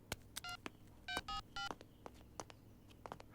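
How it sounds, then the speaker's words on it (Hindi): A telephone number is dialed on a keypad in a Hindi-dubbed film scene, a quick series of short, faint touch-tone beeps with clicks in between, heard close with no talking. "उसे एक बार कॉल करो।"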